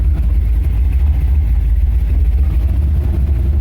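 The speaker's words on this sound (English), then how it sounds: "Nothing better cruising around your drag truck" A deep, rumbling LS-swapped V8 engine in an S10 drag truck idles steadily and loudly nearby, its low throb continuous with no voices.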